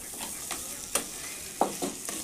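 Crab stirred into fried red spice masala for crab curry, a continuous close sizzle with a few quick spoon scrapes against the pan.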